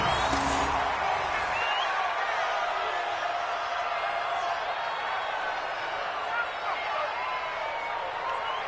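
Stadium crowd noise in a PS4 American football video game, a steady, broad wash of distant crowd murmur and cheering that continues for several seconds at a fairly even level.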